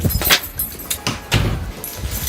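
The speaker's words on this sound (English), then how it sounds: "Get my keys, figure out how to unlock it up" Keys jangle and clink in short bursts while an office door is being unlocked, with a few sharp metallic rattles spread across a couple of seconds, fairly close.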